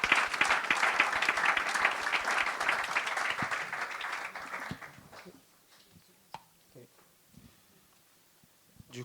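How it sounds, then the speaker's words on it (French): A church congregation applauding, sustained clapping for about five seconds that fades away into near quiet with a few faint scattered sounds. "Est-ce qu'on peut applaudir pour le Seigneur"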